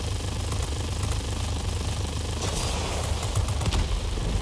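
Propeller engine of a plane flying low in a World War II air combat game, a steady loud drone throughout with faint crackling pops on top.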